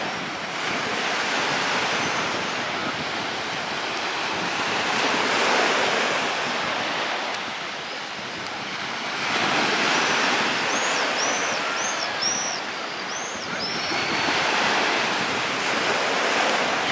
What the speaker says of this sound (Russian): Чем дальше от центра, Кабулете, тем тише море